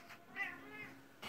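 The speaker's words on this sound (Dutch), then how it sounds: "Miauw, miauw." A single cat's meow, short and fairly faint, rising and falling once in a quiet indoor room, with a soft second sound starting at the very end.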